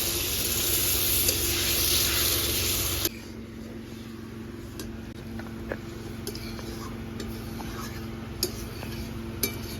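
Silver carp curry with spices cooks in a pan. A loud, close sizzle drops suddenly to a softer, steady simmer, with a few sharp utensil clinks against the pan.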